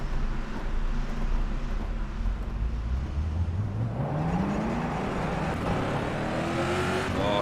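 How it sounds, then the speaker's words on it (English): Several race car engines in the rFactor 2 racing simulator rev up and pull away, their pitch climbing steadily as they accelerate off, loud and continuous with no talking. "Oh, the cars are leaving without me."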